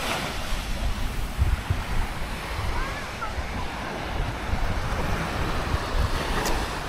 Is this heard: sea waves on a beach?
yes